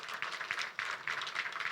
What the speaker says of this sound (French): Applaudis encore pour moi